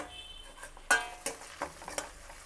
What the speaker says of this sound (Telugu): ఈ క్యాప్సికమ్ ముక్కలు కూడా వేసేసి ఒక్కసారి కలపాలి